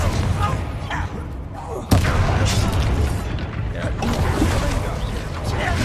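A Confringo explosion spell in Hogwarts Legacy combat bursts out as a sharp boom partway through, set amid ongoing battle noise and rumbling, with a voice speaking over it.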